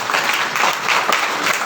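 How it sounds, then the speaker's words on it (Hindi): A church congregation at a Sunday service applauds loudly, dense continuous clapping from many hands filling the space. "जोर से ताली"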